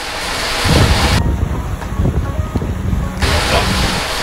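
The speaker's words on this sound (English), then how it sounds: "While we're in the midst of getting the fishing rods rigged, the wind came up again." Wind gusts roar and buffet the microphone aboard a sailboat under way, a steady loud rush with surging swells and no talking.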